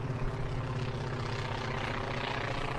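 A low, steady helicopter drone with rhythmic rotor thumping, fairly distant and continuous, passing over a beach in North Naples, Florida, with no voices.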